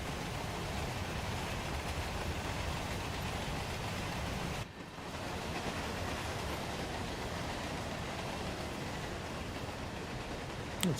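A steam locomotive in the Train Sim World 2 video game runs downhill gathering speed, giving a steady, loud rumble with rolling wheel noise and a brief dip midway.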